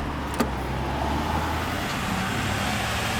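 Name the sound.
truck driving by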